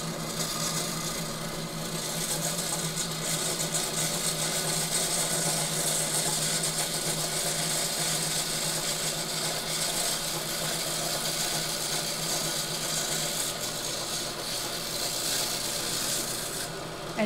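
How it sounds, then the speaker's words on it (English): A Gryphon C-40 diamond-blade bandsaw with a 42-inch blade cuts slowly through a workpiece, making a steady, close grinding rasp that runs unbroken from start to finish. "So I'm just going to push it through very gently. And let the saw blade work its way through."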